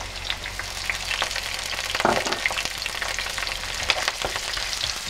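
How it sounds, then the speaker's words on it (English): Cinnamon, pandan leaves, garlic, onion and ginger garlic paste frying in oil for a crab curry, a steady close sizzle with scattered crackles and a brief stirring scrape midway, no voices. "I'm going to fry the cinnamon, pandan leaves and garlic."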